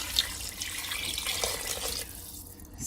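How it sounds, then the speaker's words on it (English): Water runs from a tap into a pot of dry beans for cooking from scratch, a steady close splashing stream that thins out near the end. "I'm gonna add a lot of water."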